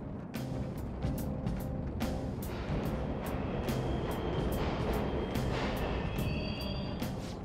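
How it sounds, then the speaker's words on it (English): Subway trains rumble steadily through an underground station in Persona 5 Royal, a continuous low roar of rolling rail cars with sharp metallic clacks and a faint high squeal partway through. "The trains are totally running!"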